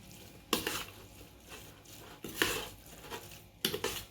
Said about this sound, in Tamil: இது சேர்ந்து நல்லா கலக்கிடலாங்க